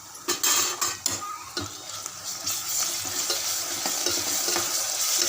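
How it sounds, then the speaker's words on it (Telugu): Ginger garlic paste frying in a pan, a steady sizzle broken by several sharp clinks and scrapes of a spoon stirring against the metal, with no talking. "అల్లం వెల్లుల్లి పేస్ట్ పచ్చివాసన పోయినాక వేయించుకోవాలి."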